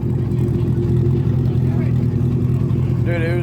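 A loud Toyota Supra engine rumbles and revs at a nighttime local car meet, a deep, sustained growl close by, with people talking over it.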